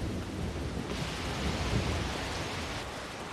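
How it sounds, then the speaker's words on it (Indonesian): Heavy rain pours steadily in a film scene, with a low rumble of thunder rolling beneath the dense hiss, loud and continuous throughout, with no voices. "Meskipun pada saat itu sedang hujan deras"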